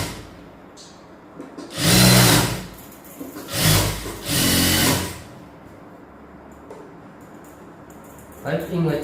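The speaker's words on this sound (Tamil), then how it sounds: "பைப்பிங் வச்சு எப்படா இவ்வளோ வேகமாக தைக்கிறான்னு பார்க்குறீங்களா?" A sewing machine stitches piping onto a blouse neckline in two short, loud whirring bursts, then falls quiet, with a faint final burst starting at the end.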